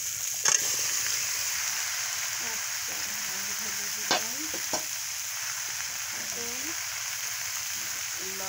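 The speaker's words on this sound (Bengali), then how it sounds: "এখন লাউ ঢেলে দিতে হবে" Bottle gourd sizzling in a little oil with cumin paste and sliced green chili, a steady close frying hiss with a few sharp knocks and clinks, while a faint voice is heard underneath.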